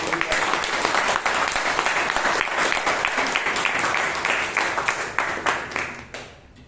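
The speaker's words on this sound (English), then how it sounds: "give a big round of applause to all of you who came up and spoke on" Audience applause fills a Toastmasters meeting in Bangalore, a sustained round of clapping from the room that holds steady and then thins out and fades over the final second.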